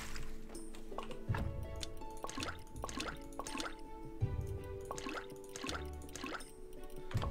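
Water is drawn with a bucket in Graveyard Keeper, a series of wet drips and splashy plunks repeating at a steady pace over a faint ambient bed, fairly close and clear with no voices.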